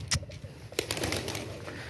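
Pigeons coo softly outdoors, a few low burbling calls amid light rustling and a brief flutter, close but faint, with no talking.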